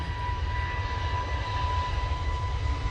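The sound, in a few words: EasyJet jet airliner on its takeoff roll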